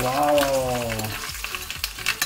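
Red chillies hit hot oil during a tempering, giving a loud, steady sizzle and crackle that fades into scattered pops and stirring clatter toward the end.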